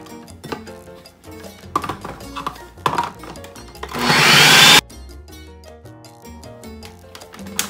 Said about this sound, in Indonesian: Jadi saya akan memarut pakai blender biar lebih cepet ya